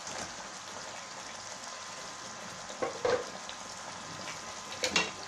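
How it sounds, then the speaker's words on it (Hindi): Chicken frying in a pan for achari chicken with homemade masala, a steady low sizzle running throughout, with a few brief louder stirring clatters near the end. "ये अब जब तक चिकन खुल नहीं जाता इसकी भुनाई नहीं होगी।"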